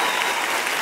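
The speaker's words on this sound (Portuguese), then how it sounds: "Obrigado pelo aplauso espontâneo." A studio audience at a Brazilian TV talk-show monologue gives a brief burst of dense, steady applause, close and loud.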